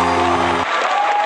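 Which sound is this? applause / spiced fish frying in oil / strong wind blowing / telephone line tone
applause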